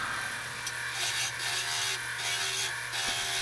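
Red oak crotch bowl being hollowed on a wood lathe, a steady close scraping and rubbing hiss of the gouge cutting the interior over a constant low motor hum, with slight surges as the tool moves.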